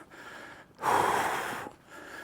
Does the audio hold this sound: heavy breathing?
yes